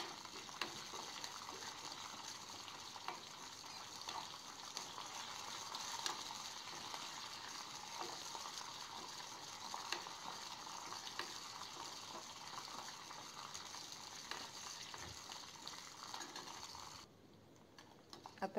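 Red chillies fry in a pan for tomato saar, a continuous moderate sizzle with faint stirring clicks running steadily, then briefly dropping away near the end.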